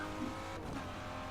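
Race car accelerating flat out in fifth gear during a drag race in Forza 7, a steady, fairly faint engine drone holding constant pitch throughout, with no voices.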